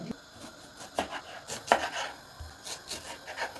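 A knife chops an onion on a cutting board in a loose series of sharp taps, close and fairly quiet, with no talking.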